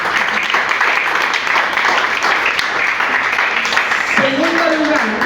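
Audience applause fills the room at the grand final of a reading and oratory contest, steady and loud throughout, with a speaker's voice rising over the clapping toward the end.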